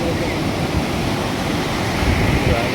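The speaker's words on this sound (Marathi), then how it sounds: "लाटा बघा कशा आहेत बघा उंच उंच लाट आहे समुद्र खवळलेलं आहे" High waves on a rough, stormy sea at Achara beach, a constant loud roar of surf and wind with no clear breaks, heard close from the shore.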